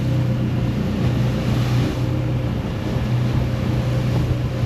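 An old 70ft yacht's engine drones steadily at about 1800 RPM offshore, a loud continuous low hum mixed with wind noise and no talking.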